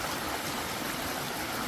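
Rainwater bubbles up from the ground on a ranch and flows on as a steady, even rush, like a small stream, fairly close and unbroken.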